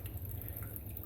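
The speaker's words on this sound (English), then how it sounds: "We're just going to get it poured through the strainer" Thick homemade elderberry cough syrup drips through a strainer into a measuring cup, giving faint wet patters over a steady low hum with no talking.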